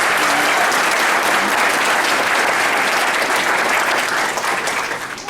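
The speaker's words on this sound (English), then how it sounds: "let's give her a round of applause" A large audience at a Remington College 2013 graduation ceremony breaks into loud, sustained applause, a thick roar of clapping that carries on evenly and then begins to fade near the end.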